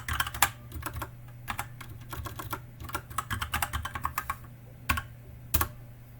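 Fingers typing on a computer keyboard while coding, with quick irregular bursts of close, crisp key clicks and short pauses between, and no voices.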